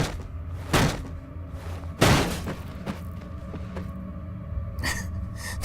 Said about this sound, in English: That barrel break keeps sounding like something's coming after me.